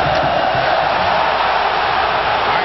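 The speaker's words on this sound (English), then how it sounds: "Crowd unhappy again." Crowd in a hockey arena during an NHL playoff game, Anaheim Mighty Ducks against Phoenix Coyotes, reacting with a steady, loud roar of displeasure that holds evenly throughout.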